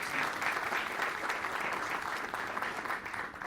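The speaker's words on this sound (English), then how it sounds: "So give yourselves a round of applause." Applause from the audience at a technical workshop, a steady wash of many hands clapping together that holds evenly for a few seconds before easing slightly at the end.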